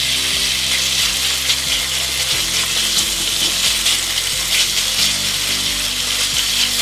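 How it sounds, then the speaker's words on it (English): Bacon frying in a pan, a loud, dense crackling sizzle that runs continuously and close, with faint low rumbles underneath and no talking. "And in the meantime, the bacon has started to fry nicely."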